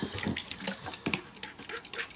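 Water spurting and dripping from a brush or spray onto watercolour paints, a series of short, close splashy bursts and drips with quiet gaps between them.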